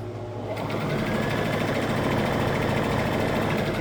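A sewing machine runs a quarter-inch seam along patchwork fabric pieces. After a brief quiet start it hums steadily, close and loud, with a fast even whir for the rest of the stretch.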